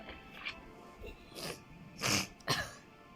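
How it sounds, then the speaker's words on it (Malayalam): A few short coughs and throat-clearing bursts, close and moderately loud, spaced irregularly over a few seconds. "അതിപ്പോൾ ശബ്ദത്തിനും ചിലപ്പോഴൊക്കെ ചുമക്കുകയും ചെയ്യും"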